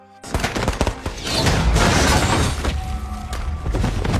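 A satellite weapon strike blasting apart a dock in a film: a sudden loud impact followed by a sustained roaring explosion with crackling debris, staying loud to the end.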